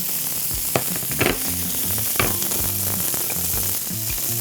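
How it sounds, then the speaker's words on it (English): Beef cubes searing in melted beef fat in a cast iron pan give off a steady, close sizzle and crackle, with a few brief louder spits and clinks along the way. "We are going to let that fat melt and then sear our cubes into that fat."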